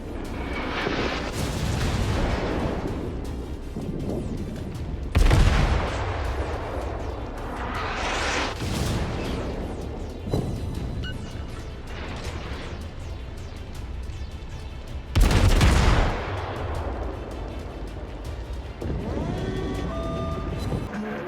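Main guns of the Royal Navy cruiser HMS Belfast firing in a naval warfare video game, several heavy booming salvos at irregular intervals over a constant engine and sea rumble, with two especially loud close blasts.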